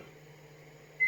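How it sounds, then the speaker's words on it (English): A microwave oven hums quietly in a kitchen, then gives a single short electronic beep as it finishes. "as soon as he's finished using the microwave"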